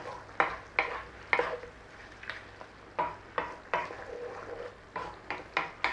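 A spoon stirs a chicken liver pâté mixture seasoned with nutmeg in a sizzling pan, making repeated close scraping strokes at an uneven rhythm over a soft frying hiss.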